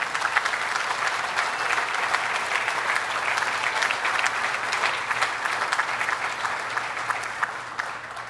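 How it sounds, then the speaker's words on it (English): A large audience applauds loudly and steadily at an outdoor summer tourism event in the Adirondacks, a dense, sustained wash of clapping with no break from start to finish. "he deserves a huge round of applause"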